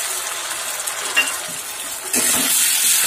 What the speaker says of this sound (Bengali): এটিকে আমি 2 মিনিট ধরে খুব ভালোভাবে কষে নেব